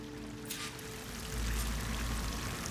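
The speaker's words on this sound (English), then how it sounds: "That waterfall must be coming from somewhere." A waterfall in the video game Horizon Forbidden West rushes as a steady broadband wash of water, swelling louder and deeper halfway through, with no talking.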